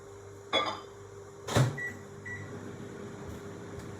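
A microwave oven hums steadily while heating a mug of macaroni, a low whir with a couple of clunks and a faint beep near the start.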